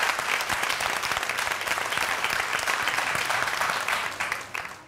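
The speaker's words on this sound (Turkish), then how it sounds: "Kocaman alkışlıyorum." Sustained applause from a studio audience on a competition show, thick and continuous with crisp individual claps throughout, fading slightly at the close.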